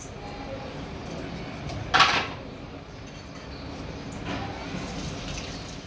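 Water pours into a cooking pot for fish dum biryani rice in a home kitchen: a short, splashy gush near the two-second mark rises above a steady low background, then tails off.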